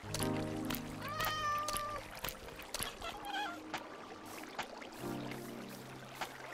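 Several short Minecraft cat meows rise and fall over a quiet game background with soft tones, spaced a second or two apart.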